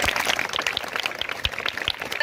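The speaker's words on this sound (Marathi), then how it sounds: "हे शेख मुस्कान कासरसाठी एकदा टाळ्या वाजवा" Students at a Zilla Parishad Urdu school clap for a classmate after her interview, a brisk, uneven patter of several pairs of hands close by with a few louder individual claps.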